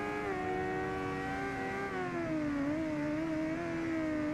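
Older motorcycle engine in the racing game RIDE 2, a loud continuous rev that holds high, sags slightly, then steadies, with faint broadband noise beneath and no talk.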